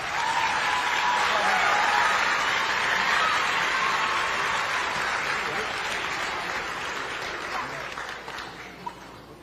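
Sustained audience applause at a science awards ceremony, a dense steady wash of clapping that holds strong throughout and only slightly tapers toward the end.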